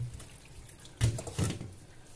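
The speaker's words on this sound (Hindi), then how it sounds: "ठंडे पानी से इस तरह से ठंडे पानी से धो लेंगे ताकि इसका जो गर्म वो है वो निकल जाए" Cooked spaghetti is rinsed under cold tap water, a soft running-water wash with two brief louder splashes as the stream hits the pasta, fairly quiet and close.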